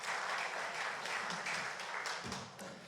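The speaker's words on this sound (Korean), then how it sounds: "우리 격려의 박수 할까요?" A church congregation at a Sunday worship service claps in encouragement, a fairly faint, even patter of many hands that thins out slightly toward the end.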